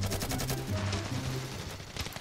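Johnny Silverhand's gun fires in the video game Ravenfield, a rapid string of loud close shots in quick succession, dense and overlapping with a tonal hum beneath.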